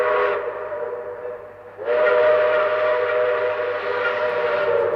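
A model train's steam whistle sounds twice, a short hissing toot and then a long sustained breathy tone, clear and near with no talking over it.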